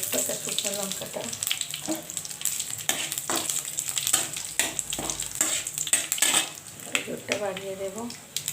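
Five-spice, bay leaf and dried chili frying in hot oil for a Bengali mixed greens dish with kolmi and susni shak, a close busy sizzle with spoon stirring and pan clatter.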